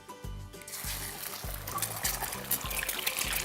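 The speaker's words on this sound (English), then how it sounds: "We're gonna add quite a bit of oil, enough to cover the bottom of the pan." Cooking oil poured into a frying pan ahead of frying an egg, a short close trickle and gurgle lasting a few seconds, with faint pulsing glugs from the bottle, no talking.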